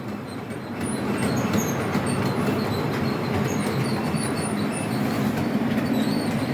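A model railway locomotive runs on the track of a layout with a steady, fairly loud rolling rumble and high faint squeals of the wheels throughout, with no talk.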